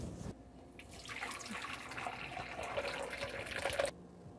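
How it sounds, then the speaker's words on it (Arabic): Boiled milk for homemade qishta cream is poured through a fine strainer, giving a continuous close splashing, trickling stream for several seconds that stops abruptly. "صفيهم مصفاية ناعمة."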